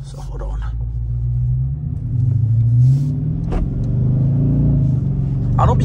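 A 2023 Dodge Charger RT V8 rumbles as it pulls away from a gas station and accelerates, with a deep engine note rising and falling. Someone talks over it.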